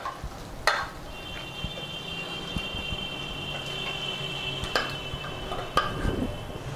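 Boiled, mashed vegetables are stirred in a pan for pav bhaji. A quiet, soft stirring and faint bubbling run throughout, broken by a few sharp utensil clinks and scrapes, with a thin steady whine in the background.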